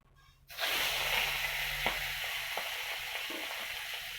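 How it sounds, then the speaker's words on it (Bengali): Prawns drop into a very hot kadai with a sudden loud sizzle, and close, dense frying hiss follows with a few faint stirring clicks. "চিংড়ি মাছটা আমি ভেজে নেব"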